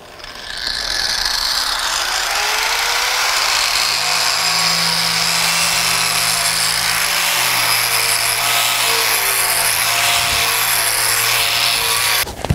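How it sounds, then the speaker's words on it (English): A needle gun hammers paint off a steel propane tank with a loud, steady, rattling buzz that runs close and unbroken for nearly the whole stretch, with no talking. "I'm probably going to wind up using just the needle gun"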